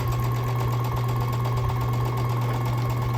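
A sewing machine stitches small quilt block sections pieced from fabric snippets, running in a steady, fast, even mechanical whir up close with no pauses.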